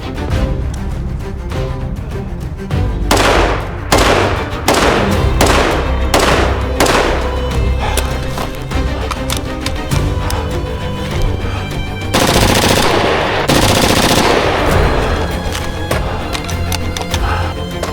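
Rapid fire from a replica ATACR rifle with a replica LPVO scope at 50 yards, loud close cracks in fast strings with brief gaps, some shots spaced singly, no talk.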